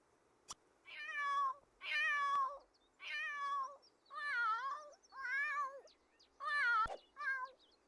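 A cat in a Wii video game meows about seven times in a steady, evenly spaced run, each call clear and drawn out against quiet background.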